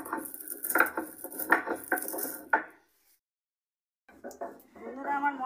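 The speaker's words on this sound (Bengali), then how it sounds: "আমি সেই মশলাটা যে ভেজেছিলাম সেটা একটু গুঁড়ো করে নিচ্ছি" Roasted spice mix being ground by hand in a home kitchen while cooking, heard as scraping, clattering strokes close up, broken by a short pause before the grinding resumes.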